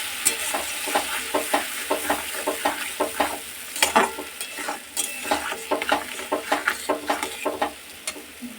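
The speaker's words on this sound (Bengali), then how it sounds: "এবার মশলাটা ভালো মতন কষিয়ে নেব।" A spice paste of garlic, tomato, turmeric, chilli powder and salt sautés in a pan, with steady frying sizzle broken by frequent scraping stirs of a spoon, close and moderately loud, no voices.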